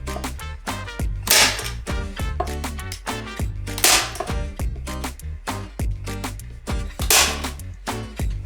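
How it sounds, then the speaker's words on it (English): A staple gun fires again and again into fabric stretched over a kneeler, each shot a sharp snapping crack at an irregular pace, loud and close, with several bright bursts standing out among the shorter clicks. "I'm just gonna staple gun it"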